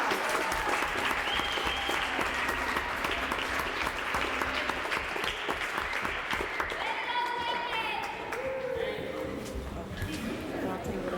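An audience applauds science fair students at a school event in Unalakleet, steady dense clapping filling the whole stretch with a few voices talking over it.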